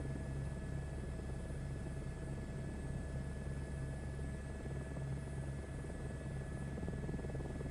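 A helicopter in flight in Microsoft Flight Simulator 2024 on PS5 Pro, giving off a steady, unbroken rotor and engine drone with a constant hum that holds at an even loudness throughout.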